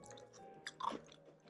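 Soft close chewing of knife-cut noodles topped with a crispy kimchi garnish, a few faint crunchy bites clustered near the end of the short stretch, with no talking.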